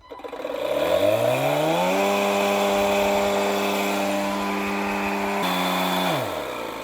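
Etenwolf Vortex S7 cordless tire inflator pumping up an off-road tire, spinning up with a rising whine into a steady loud buzzing drone, then winding down at the end.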